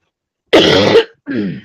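Two close, harsh coughs, the first longer and rougher, the second shorter after a brief pause, with no talking.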